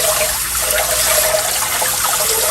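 Kitchen tap running hard over rice noodles being rinsed in a sink, a loud steady splashing stream of water with no pauses.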